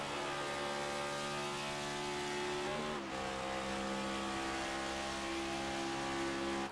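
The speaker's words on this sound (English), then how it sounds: "it's so weird for me to hear like a next-gen Cup car, or excuse me, not next-gen, but a NASCAR Cup car in general, just shifting down from a gear" NASCAR Cup car on the oval at Michigan International Speedway, its engine droning loud and steady, then a brief dip as it shifts down a gear before the tone settles lower and continues.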